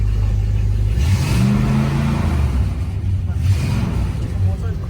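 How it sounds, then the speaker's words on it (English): A car engine is revved hard, its low droning pitch climbing and then falling, with a second rise near the end, close by and loud, while excited voices talk over it. "Give it a hard rev."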